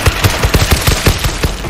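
Rapid gunfire in the zombie shooter World War Z Aftermath, a steady string of about a dozen sharp shots in quick rhythm, loud and close with no talk over it.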